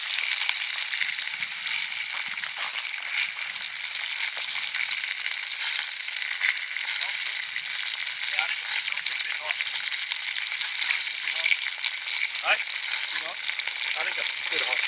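A mustard pork roast sizzles and spits inside a camp oven set over a campfire, giving a continuous, dense frying hiss with small crackles throughout and no pauses.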